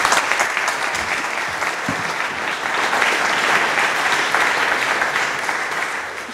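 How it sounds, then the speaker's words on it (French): An audience applauds after a talk at a blockchain evening event, with dense, steady clapping from a sizeable crowd filling the room loudly for several seconds, unbroken and without speech. "Merci beaucoup, on l'applaudit."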